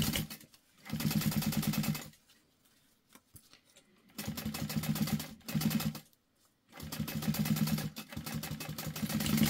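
A sewing machine top-stitches a fabric pouch in three rapid, rhythmic runs of stitching separated by brief quiet pauses, close and fairly soft.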